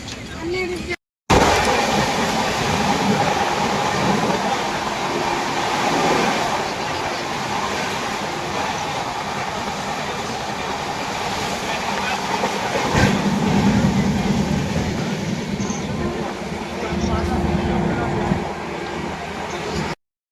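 A passenger train runs along the rails on a roughly 305 km general-class journey toward Parasnath station in Jharkhand, with a continuous loud rumble and clatter heard from inside the carriage, steady throughout with a brief cut near the start.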